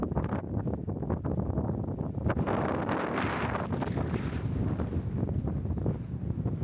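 Strong wind buffets the microphone outdoors at Homolovi State Park in Arizona, a continuous heavy rumble with gusty surges, loud and close with no talking.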